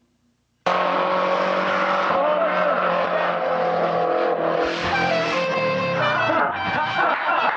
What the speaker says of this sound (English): they had one of their friends attempt the jump at top speed, kind of Bo and Luke Duke style